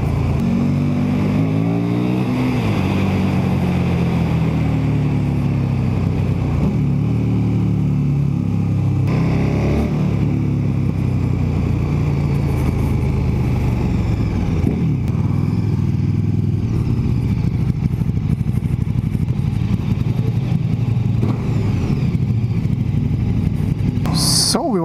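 A KTM 1290 Super Duke motorcycle ridden on a road, its engine droning loud and continuous as the pitch rises and falls with gear changes, mixed with steady wind rush.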